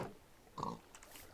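Minecraft pigs in a video game give a short grunting oink near the middle of the moment, with faint game ambience around it and no talk.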